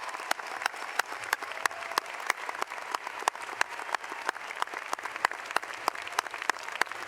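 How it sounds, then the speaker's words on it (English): A ceremony audience claps for 270 new KCU students at a white coat ceremony, a steady crowd applause with distinct sharp claps sounding at an even pace for several seconds. "How about a round of applause for 270 new KCU students?"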